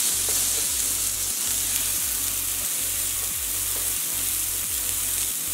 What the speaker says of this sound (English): Alright, I'm going to lay the steaks in.